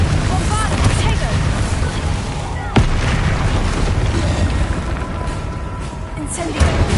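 Spell blasts boom repeatedly in Hogwarts Legacy combat against a troll, heavy explosive thumps over a loud, busy battle bed, with a sharp crack near the middle and voices shouting incantations through it.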